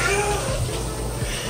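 Cats, including a yellow-stained one, meowing faintly during a sulfur bath for ringworm at home, brief cries over steady running-water hiss and handling noise.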